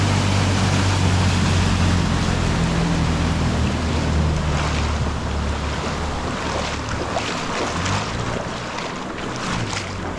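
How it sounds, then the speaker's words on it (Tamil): Floodwater flows nonstop through a flooded seaside town, a dense, loud rushing wash that fills the whole clip, with low wind-like rumble and no voices. "வெள்ளம் இந்த பகுதியாக போய் கொண்டு இருக்குது நிற்காமல் ஓடுது"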